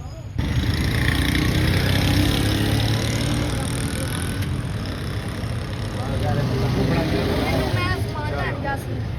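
A 40-year-old Mercedes W124 250D five-cylinder diesel, in the middle of a turbo install, fires up after a brief quiet and runs at a loud, steady, clattering idle close by, with people talking over it.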